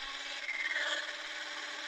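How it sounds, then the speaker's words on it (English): A cobalt drill bit bores a pilot hole into a metal motorcycle handlebar with stripped threads, producing a steady, close, grinding whine with a shrill squeal rising midway, and no talking. "Now what I'm going to do first is I'm going to drill a small pilot hole."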